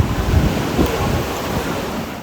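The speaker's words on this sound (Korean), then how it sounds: "파도 소리 한번 들어보실래요?" Loud ocean surf rolls in beside an open-air restaurant terrace in Mui Ne, a heavy continuous wash of breaking waves with wind rumble on the microphone and no voices.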